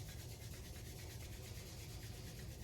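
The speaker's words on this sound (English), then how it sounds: "Rub the hands together to create some heat and energy." Palms rubbed briskly together during a lymphatic drainage self-massage for the neck and shoulders, a steady close-up friction hiss that runs continuously without pause and without any talk.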